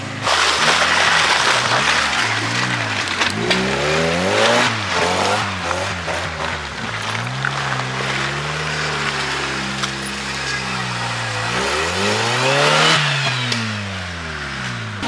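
An off-road car engine revs up and down repeatedly, loud and close, rising and falling in pitch with rough mechanical roar throughout.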